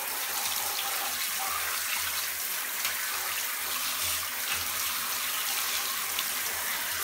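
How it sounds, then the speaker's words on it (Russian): Strong jet of cold tap water rinsing aquarium filter media, a loud, steady, hissing splash running continuously from start to end with no talking. "Включаю струю посильнее и промываю."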